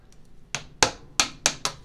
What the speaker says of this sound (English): To grab my hammer, I use a couple putty knives and I drive them in that crack